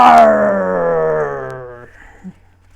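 A voice imitates a lion's roar as one long, loud, groaning bellow that slides downward in pitch for about two seconds and then cuts off into quiet.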